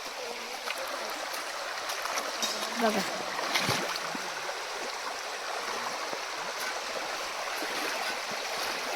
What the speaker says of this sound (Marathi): बघा किती छान वाहते पाणी